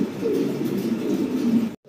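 A pair of white Gazi Modena pigeons coo in a low, rolling, continuous murmur, close and fairly loud, ending abruptly.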